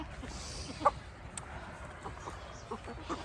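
Tractor chickens on a small farm cluck faintly in scattered, brief calls over a quiet outdoor background, with one slightly louder cluck standing out early on.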